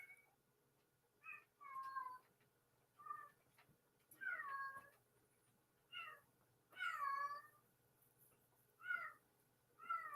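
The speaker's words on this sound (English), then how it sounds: "if you hear one of my cats here" A female house cat in heat yowls repeatedly in long, drawn-out meows with rising and falling pitch, coming every second or two against a quiet room with a low background hum.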